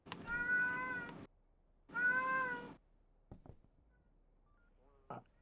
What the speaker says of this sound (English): The cat's annoying, but Can you guys hear her now?